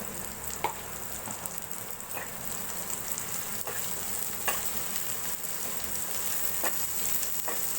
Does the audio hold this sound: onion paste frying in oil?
yes